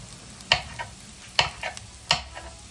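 Onion frying in a hot skillet, a continuous low sizzle punctuated by three sharp spatula scrapes against the pan, close and alone without voices.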